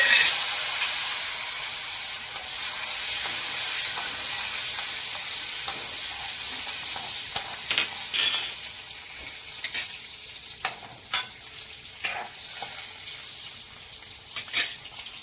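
Steady sizzling of drumstick flowers frying in hot oil with curry leaves, with occasional stirring scrapes and louder crackles toward the end.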